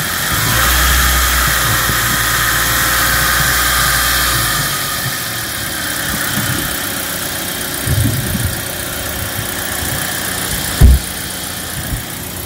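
White 2022 Toyota Rush, only three months old, idling steadily with a constant low hum and faint whine for several seconds, its low rumble easing midway, followed by a few light knocks and one sharp thump near the end.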